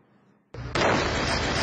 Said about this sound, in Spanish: Esta era la explosión que provocaba un meteorito el viernes tras entrar en la atmósfera